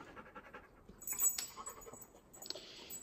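A dog whimpers and pants quietly indoors, with faint high whines and soft breathy sounds at a low level, no talk.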